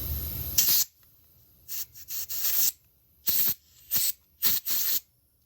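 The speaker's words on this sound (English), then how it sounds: "So I'm gonna hit it with some air in each little hole that I sprayed carburetor into" Compressed air blown through the carburetor passageways of a Craftsman lawnmower, coming as a series of short, loud, close hissing bursts split by brief silences, with no speech.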